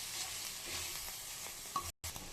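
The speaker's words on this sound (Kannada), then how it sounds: "ಚೆನ್ನಾಗಿ ಫ್ರೈ ಮಾಡ್ಕೋಬೇಕು." Coriander powder frying in a pan for palak raita, a steady close sizzle with stirring scrapes that runs on without a break except for one brief cut near the end, and no talking.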